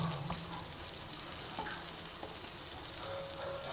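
Ginger chicken pieces fry in a pan with a constant, dense crackling sizzle that runs unbroken throughout, fairly quiet and with no talking.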